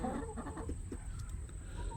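Nearby chickens cluck in a quick burst of short, throaty calls, then fall quieter over a low background hum.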